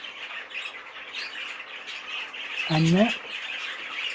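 A variegated yellow canary gives one short squawk near the end, close and clear over a steady background hiss, while someone talks across the clip.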